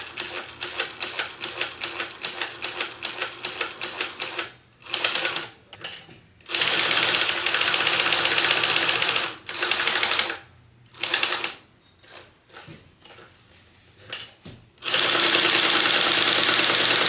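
A sewing machine top-stitches a fringe clutch bag, running in steady rapid bursts of stitching with short pauses between runs and one long continuous run at the end, close and loud with no talk.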